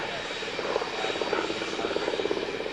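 An aircraft engine of the same type as the B-25 Mitchell bomber's drones at a 2017 air show in the Illawarra, with a loud, continuous, slightly pulsing roar throughout.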